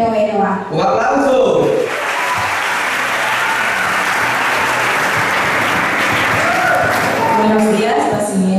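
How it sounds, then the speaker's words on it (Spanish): Audience applause for students at a school debate, loud dense clapping from a crowd that swells after a brief spoken introduction and holds steady for several seconds before speech resumes. "¡Un aplauso!"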